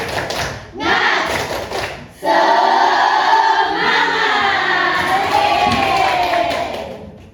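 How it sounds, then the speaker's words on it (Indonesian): A class in Indonesia performs a rhythmic spirit clap chant, the group clapping in unison with chanted voices. Loud, close and sustained, with a brief pause early on. "mari kita tepuk semangat terlebih dahulu. Ya, tepuk semangat."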